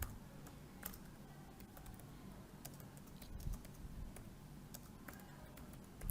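Fast keystrokes on a computer keyboard tap out text in a steady, close run of light clicks over a low background hum, with no voices.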